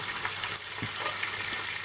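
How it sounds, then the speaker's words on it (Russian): Fatty spring duck frying in a hot pan, a loud continuous close sizzle and crackle with a brief clatter partway through and no voices. "Сковородочка шкварчит. Что, она нагрелась? Ну да, шкварчит."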